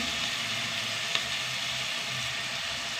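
Tomatoes sauté in a hot pan with a steady, close sizzle and crackle that runs throughout, with one brief clink partway through.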